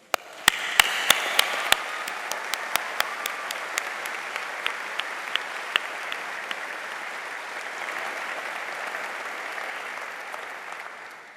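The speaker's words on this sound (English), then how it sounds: "please join me in thanking them with a round of applause" A graduation audience at Liverpool University breaks into sustained applause. A few sharp, separate claps open it before it swells into a dense, steady roar of many hands that holds evenly and tapers slightly at the end.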